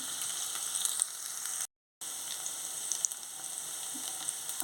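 Ginger garlic paste fries with onions in hot oil for a village-style brinjal and potato gravy curry, giving a steady close sizzle that cuts out briefly midway before resuming.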